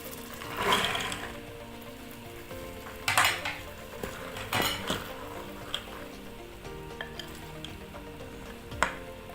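Beans and maize stirred with chili in a pot in an electric pressure cooker, with scattered scraping and clanking of a spoon against the pot over a soft background hiss.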